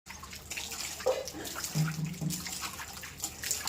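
Tap water runs over organic mangoes being washed in a sink, a quiet splashing trickle with small shifts in tone as the fruit is turned under the stream.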